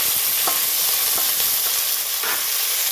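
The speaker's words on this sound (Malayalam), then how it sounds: "ചെറിയുള്ളി നന്നായിട്ട് വഴറ്റിയെടുക്കണം." Crushed shallots sauté in hot oil with mustard seeds for a Kerala-style potato fry, a constant close sizzle broken by a few short stirring scrapes.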